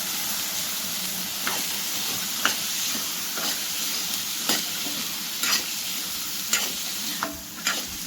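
Beans being stirred in a frying pan with red chilli powder and salt, a steady sizzle running throughout while a spoon scrapes and clinks against the pan in repeated short strokes, close and alone.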